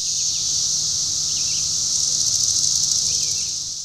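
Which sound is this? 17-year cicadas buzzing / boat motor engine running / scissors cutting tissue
17-year cicadas buzzing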